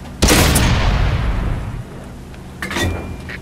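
A single heavy gunshot or cannon blast booms loudly at a target and rolls off in a long decaying rumble, followed a few seconds later by a second, lighter shot.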